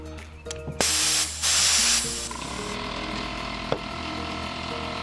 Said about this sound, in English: I am using my air compressor